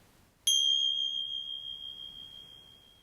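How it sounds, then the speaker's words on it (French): A single meditation bell struck once during a yoga session, ringing clear and bright with a long sustained tone that fades slowly over several seconds in a quiet room. "Et avec le son des cloches,"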